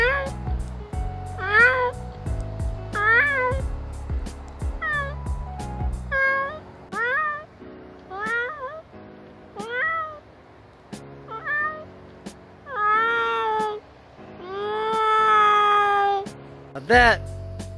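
A voice imitates a cat meowing in a long run of short, high, rising-and-falling meows, close and clear, with a few longer wavering calls near the end and brief pauses between them.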